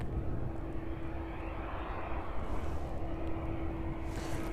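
A jet airliner climbs away after takeoff from East Midlands Airport in the evening, a steady distant engine roar and rumble that holds evenly throughout.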